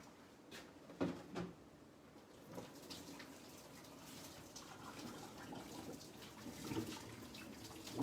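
Boiling water is poured over a meat-cutting board in a kitchen, a soft, low splashing and trickling with a few light knocks, fairly faint and steady.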